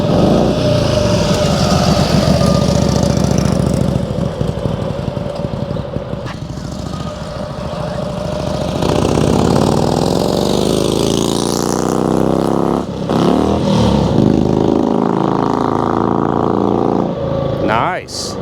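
Harley-Davidson FLE-F motorcycle, a 50th anniversary model, running with a steady low engine rumble and a rising rev near the end, heard close and loud under people talking nearby.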